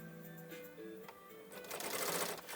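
A sewing machine stitches fabric close by, its motor humming with a quick mechanical patter that rises and becomes busier partway through.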